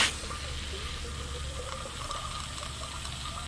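Water running steadily into a converted propane tank being flushed out, a continuous hissing, gurgling flow heard close and alone with no talk.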